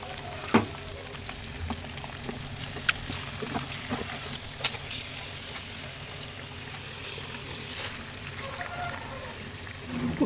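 Fish pieces drop one by one into a simmering fish curry, giving a few soft plops and splashes over a steady bubbling sizzle in a close kitchen, with no clear talk.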